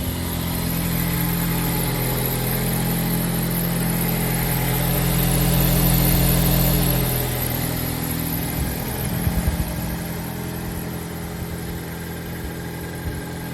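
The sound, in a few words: Mazda 6 car engine idling while stationary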